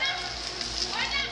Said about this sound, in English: And I found rain like I'd never seen before.